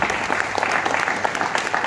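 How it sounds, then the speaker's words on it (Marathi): An audience in a seminar hall claps steadily and densely throughout, a sustained burst of applause with no voices over it. "त्यांच्यासाठी जोरदार टाळ्या होत्या."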